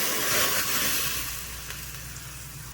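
Tomato paste hits hot oil with popped mustard seeds and sets off a loud, broad sizzle close up that slowly settles a little over a few seconds.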